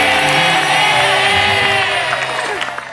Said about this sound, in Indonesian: tepuk tangan dong untuk tarian Toraja ini